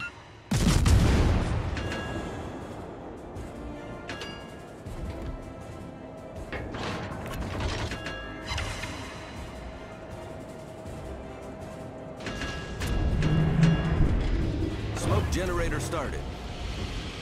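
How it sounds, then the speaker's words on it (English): Naval guns on the Perth cruiser fire in World of Warships. Heavy booms sound at intervals, one loud blast near the start, then more distant thuds and a louder rumbling volley later, over game radio voices. "All stations, requesting fire on the designated target."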